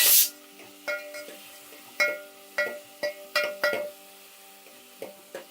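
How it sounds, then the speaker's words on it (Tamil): Onion and tomato sauté in a pan for sambar, with a soft sizzle beneath sharp metallic stirring clinks that come every half second or so, close up. "ஒரு 2 நிமிஷம் அப்படி போட்டு நல்லா வதக்கிக்கோங்க."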